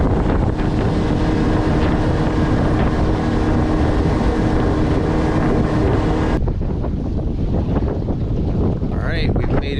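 A loud, steady engine roar with water rushing and wind buffeting the microphone, the sound of a motorboat running fast before it abruptly quiets.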